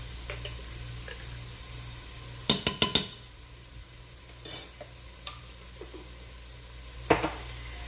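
Chicken patty filling being stirred with Haitian epis seasoning in a bowl, with sparse clinks of a utensil against the dish, a quick cluster of taps and softer squishy scrapes between quiet pauses.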